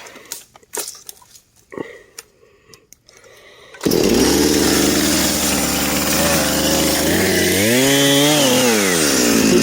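A Husqvarna chainsaw cuts into a big hemlock in the Adirondacks: after a few scattered knocks and rustles, the saw roars in loud and close, its engine pitch dipping and climbing as it bites through the wood.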